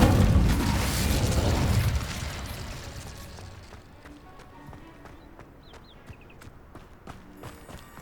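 An Incendio fire spell in Hogwarts Legacy bursts with a loud, roaring whoosh of flame for about two seconds, then fades into quieter crackling and scattered light taps.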